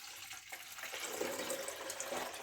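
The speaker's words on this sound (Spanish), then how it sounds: "Todo el agua dentro de la licuadora." Water poured from a one-litre measure into a blender jar already holding chopped tree tomato (tamarillo) pieces, a steady splashing, filling gush close by that runs without a break, with no voices over it.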